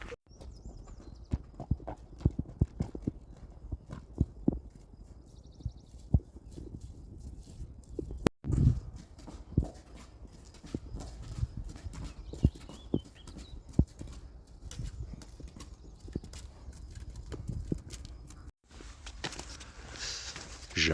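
Free-roaming horses walk along a rural path, their hooves clip-clopping in a steady, uneven patter at close range, with occasional louder thumps and no talking.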